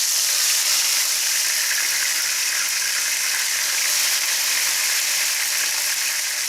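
Ginger garlic paste fries in a pan for a tinda masala dish, a steady, close, hissing sizzle that holds evenly throughout.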